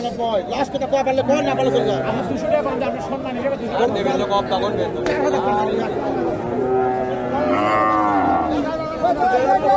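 Cattle moo and low repeatedly amid the chatter and hubbub of a busy livestock market crowd where Friesian cross heifers are being bought and sold.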